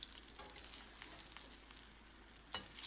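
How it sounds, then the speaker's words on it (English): Vada deep frying in hot oil over medium to high flame, a continuous soft crackling sizzle with faint stirring, quiet and close, no talk. "Keep it in medium to high flame and fry it until it's golden brown"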